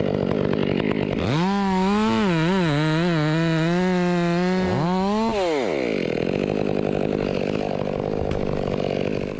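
A cheap Gthan top-handle gas chainsaw revs loudly up close, its engine pitch wavering up and down for several seconds before dropping off to a lower idle.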